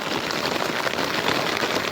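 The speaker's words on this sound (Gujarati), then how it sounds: "અને અવાજ આવતો છે તમારે જુઓ, આમ દેખાતો છે વરસાદ, એટલો વરસાદ આવે." Steady, dense hiss of heavy rain pouring down, continuous and fairly loud with no pauses, with no voices present.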